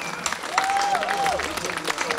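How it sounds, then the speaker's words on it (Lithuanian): A concert audience applauds the big band's soloists in a brief, even burst of clapping, with a thin whistle-like tone gliding through the middle. "Plojimai visiems solistams"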